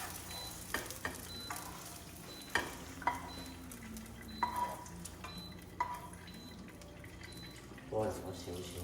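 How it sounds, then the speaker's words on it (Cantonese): Steak fries in a wok with a soft, steady sizzle, broken by sharp clanks and taps of a utensil against the metal at irregular intervals. "咁啊起鑊噶啦，生火先。"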